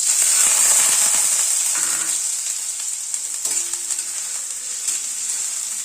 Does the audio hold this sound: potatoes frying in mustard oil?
yes